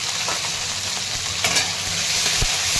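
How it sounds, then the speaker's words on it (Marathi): Sliced bitter gourd sautés in a pan with turmeric and salt, giving a continuous bright sizzle broken by a few scraping stirs, with no voices. "आधी ना थोडंसं पारलं परतून घ्यायचं आहे"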